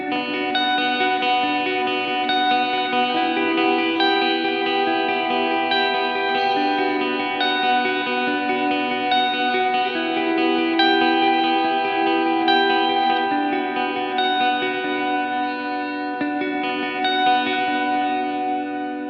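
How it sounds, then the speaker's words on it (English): A Spira S-407 electric guitar plays a sustained ambient tone through stacked effects: chorus, reverb and echo make long, layered chords that swell and shimmer steadily for about twenty seconds, with no voices. "we'll also try an ambient tone and just stack a bunch of effects on this."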